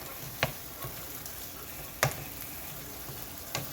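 Beef sizzles in a pan as it is stirred for beef and broccoli, a steady soft frying hiss broken by three distinct utensil scrapes against the pan, close by with no talking.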